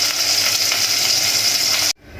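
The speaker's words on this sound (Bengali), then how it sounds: "এখন আমরা আলুটা ভেজে নিই।" Potatoes frying in a pan of hot oil for mutton kacchi biryani give a loud, steady, dense sizzle with no talk, cutting off sharply near the end.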